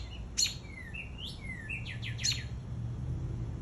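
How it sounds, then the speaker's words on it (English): Cardinal birds near a backyard nest give a handful of sharp, high chirps and short whistled slides, spaced irregularly over quiet outdoor ambience. "Hear it chirping."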